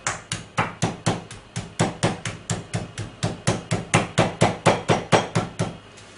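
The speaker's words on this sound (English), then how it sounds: "And what we're going to do is make our meat casing for the eggs. So, I'm going to start bashing." Repeated rhythmic thuds of meat being pounded flat under cling film for chorizo Scotch egg casing, about twenty-five evenly spaced close, loud blows over six seconds with no talking.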